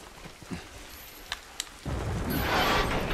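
Heavy night rain in the video game The Last of Us breaks in suddenly after a near-silent stretch with a few faint clicks, then fills the space as a loud, steady downpour hiss.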